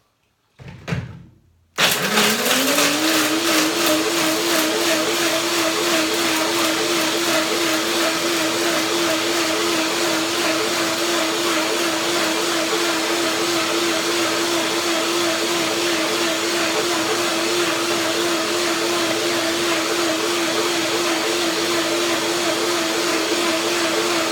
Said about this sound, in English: So much fun, the blender dance.